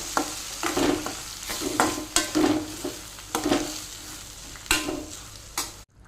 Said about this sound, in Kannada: ಇಲ್ಲಿ ಗಸಿ ಮಾಡಲಿಕ್ಕೆ ಮಸಾಲವನ್ನು ಫ್ರೈ ಮಾಡ್ತಾ ಇದ್ದೇನೆ